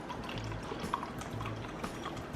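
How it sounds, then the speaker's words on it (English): Premium soy sauce pours into a cup, a faint, thin trickling with small drips and splashes running close by in a quiet kitchen, with no voices. "Pour out a cup of premium soy sauce."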